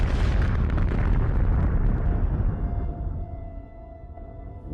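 A huge explosion sound effect depicting the Big Bang bursts in loud and full, then rolls on as a heavy roar that slowly fades and thins.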